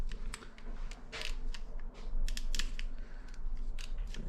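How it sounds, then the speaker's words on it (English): The adjustment lever of a JRL hair clipper clicks repeatedly, a series of sharp close snaps in irregular bursts over a low background hum, with no talking. "it's a clicking lever, which is awesome"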